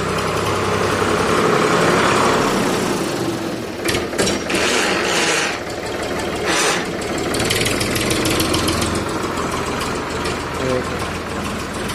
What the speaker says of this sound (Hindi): ये देखिए आ रहा है ट्रैक्टर